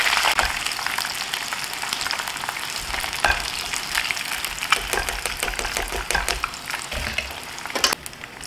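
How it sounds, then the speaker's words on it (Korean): Steady crackling sizzle of battered fish pieces deep frying in hot oil, with scattered louder pops throughout, close and continuous. "이렇게 해서 생선살을 튀겼는데요"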